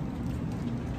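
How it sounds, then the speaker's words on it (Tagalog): Steady rain falling, a dense continuous hiss with no pauses, fairly close and even in level throughout. "Kahit umuulan, tuloy pa rin."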